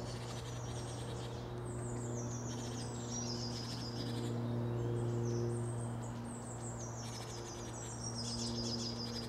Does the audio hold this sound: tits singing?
yes